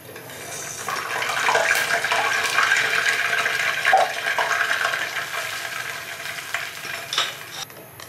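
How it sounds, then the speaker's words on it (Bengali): Fried pitha cakes drop into sugar syrup, giving a soft, steady wet swishing and sloshing that runs throughout, with a few light clinks of a utensil near the end and no talking. "এখন এটাকে চিনি শিরায় দিয়ে দিচ্ছি"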